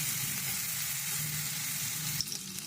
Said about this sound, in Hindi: साथ में एक प्याज था जो कि मीडियम था और मैंने इसको डाल दिया है